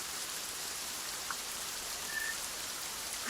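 Steady rain hisses evenly throughout, a dense wash of drops on surfaces with no voices and only faint scattered patters.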